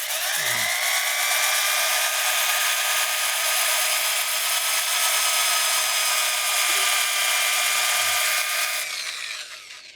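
A wood lathe spins a turned bowl during sanding with coarse grit, giving a steady, loud high whine that runs unbroken and then tapers off near the end.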